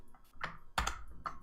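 Keys pressed on a computer keyboard for the Control U browser shortcut, giving a few quiet, separate taps and clicks with short gaps between them, close by and with no one speaking.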